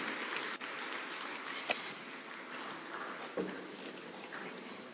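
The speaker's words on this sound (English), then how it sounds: "give him a warm welcome with a clap as he comes to make his remarks" Applause from a conference audience greeting the President of Kenya as he comes up to speak, a steady wash of clapping filling the whole stretch at a moderate level, with no talk over it.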